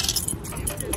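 Keys jangling close by in a quick, bright metallic rattle lasting about a second, on a family day at the pool.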